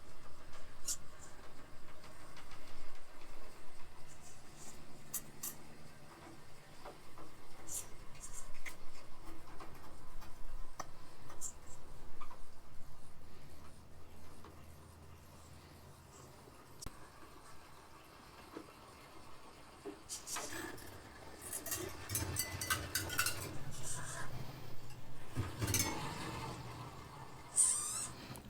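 A 1/10 scale 4Runner RC crawler with a metal skid plate climbs steps, making sparse faint ticks and scrapes. It turns into denser clattering metal scraping and knocks near the end, with a soft motor whir underneath.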